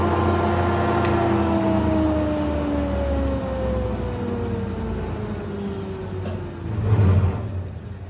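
A jointer woodworking machine spins up and runs, a steady motor hum with a falling whine that gradually drops in pitch, close and continuous throughout.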